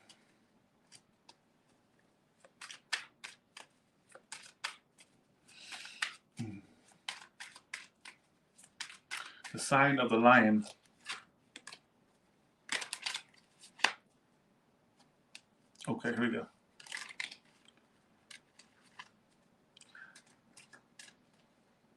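Tarot cards being shuffled by hand, producing repeated crisp riffling and slapping bursts with short pauses between them, loudest in the middle; a voice speaks briefly near the start.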